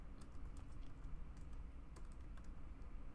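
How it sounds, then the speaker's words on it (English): Soft, steady typing on a computer keyboard: a quick run of light key clicks with no voices, heard close but quiet. "My typing is not the greatest today,"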